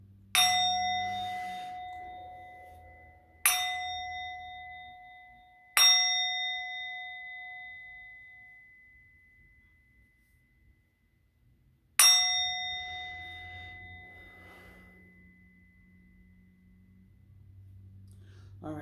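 A bell rings four separate times, each strike clear and resonant with a long ringing decay, the later strikes spaced several seconds apart in an otherwise quiet room.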